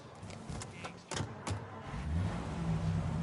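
Car driving in Mafia Definitive Edition, a low engine hum with a few sharp clicks and thumps early on, then a steadier, slightly louder engine drone.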